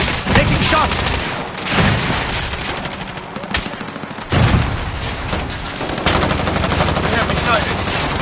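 Rapid, loud automatic gunfire and bursts of shots in Call of Duty: Warzone, continuous and dense across the whole stretch, with brief game voice lines mixed in.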